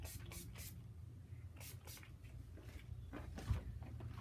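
Redken Vinyl Glam hair spray released in several short, soft hissing bursts close by, quiet and spaced out with brief pauses between sprays.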